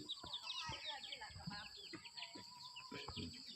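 Chickens cluck faintly on an integrated mixed farm in Thailand, with scattered soft bird chirps and low background noise around them.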